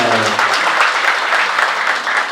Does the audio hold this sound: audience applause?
yes